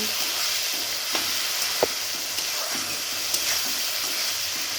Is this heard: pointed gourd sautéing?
yes